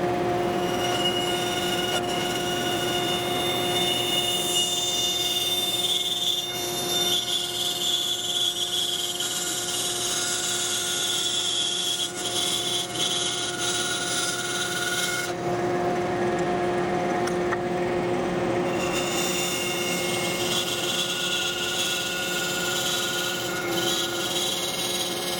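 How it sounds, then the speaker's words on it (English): A bandsaw cutting a taper on a wooden mallet handle for a joiner's mallet in a workshop: a steady, continuous machine whine with tonal hum runs throughout, shifting slightly midway, with no talking. "we're going to cut that taper here at the bandsaw"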